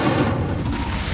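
A fire spell cast in the video game Hogwarts Legacy, a dense, loud whooshing burst of flame that roars steadily for about a second with a booming low end.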